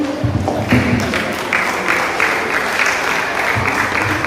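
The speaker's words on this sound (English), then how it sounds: "Shall we give them another round of applause?" Audience at a Micronesia clean-up day ceremony gives another round of applause, broad sustained clapping from many people that stays even and continuous throughout.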